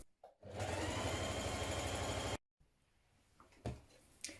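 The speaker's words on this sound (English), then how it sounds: "Stitch your facing to your tunic" A sewing machine stitches a hem facing onto a tunic in a steady, loud run of about two seconds, then stops abruptly, followed by quieter handling clicks and rustles.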